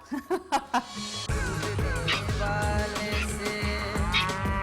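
A cow moos loudly and close, one long drawn-out low call, after a few quick knocks at the start, on a street in India.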